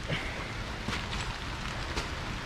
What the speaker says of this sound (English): Working in the rain.